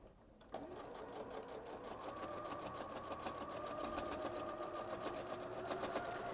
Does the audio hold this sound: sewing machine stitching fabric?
yes